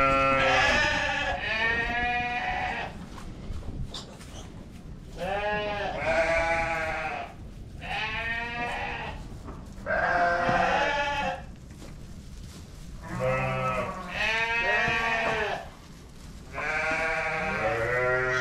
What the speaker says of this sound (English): Fun for little baby goats.